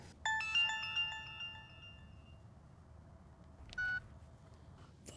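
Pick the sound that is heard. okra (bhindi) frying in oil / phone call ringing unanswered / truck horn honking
phone call ringing unanswered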